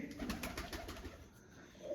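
Pigeons coo softly in a low, rhythmic murmur, fairly faint, with a hiss of background noise.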